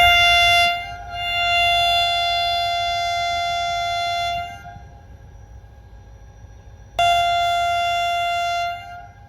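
The 11 Up train departing Ring Road railway station in Karachi sounds a loud, sustained horn blast that cuts off, then after a pause of low rumble blasts again, close by.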